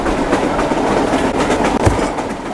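A tram is driven in a video game, producing a loud, steady rumble of rolling rail wheels with a faint rhythmic clatter, and no voices over it.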